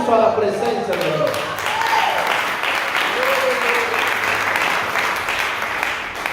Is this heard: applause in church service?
yes